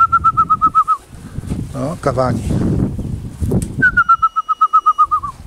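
Racing pigeons arrive at a loft with a flurry of flapping wings between two bursts of rapid, evenly spaced bird calls, while someone speaks briefly nearby.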